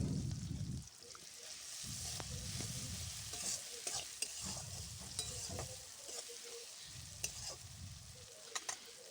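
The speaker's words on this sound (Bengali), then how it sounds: "মশলাটা ভাজা হয়ে এসছে" Spice masala with garlic paste frying in a pan for a fish and cauliflower curry, with a steady sizzle broken by repeated rhythmic bursts of scraping and stirring.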